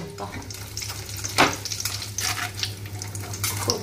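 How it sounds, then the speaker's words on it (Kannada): Grated coconut fries in a pan with a steady sizzle, broken by sharp scraping stirs, loudest around the middle, with no voices. "ಕೊಬ್ಬರಿ ಸ್ವಲ್ಪ ಚೆನ್ನಾಗಿ ಫ್ರೈ ಮಾಡಿದಷ್ಟು ಚೆನ್ನಾಗಿರುತ್ತೆ."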